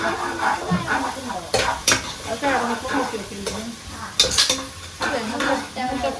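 Food in a cooking pot being mixed after powder is added, giving repeated scraping and clinking strokes of a spoon against metal over a low sizzle, close, with brief bits of voice between strokes.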